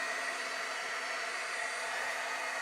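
Hair dryer blowing on wet craft paint, a steady close whooshing roar holding constant throughout, no voices.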